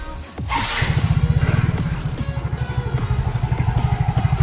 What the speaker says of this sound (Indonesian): Oke, lalu kita coba untuk nyalain mesin ya